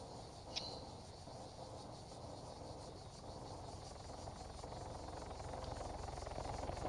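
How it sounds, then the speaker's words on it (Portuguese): A helicopter's rotor thrum passes at a distance in the game Arma 3, a faint steady whir that swells slightly toward the end, with a brief click early on. "Um helicóptero"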